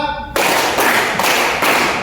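A group of fifth-grade schoolchildren in a classroom claps hands in four broad, loud bursts at a steady rhythm, right after a brief voice.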